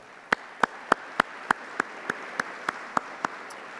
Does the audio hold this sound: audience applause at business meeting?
yes